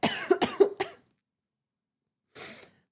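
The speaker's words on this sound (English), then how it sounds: "The cough was not for dramatic effect." Three sharp coughs in quick succession, close to the microphone, then a short silence before one more rough, breathy cough.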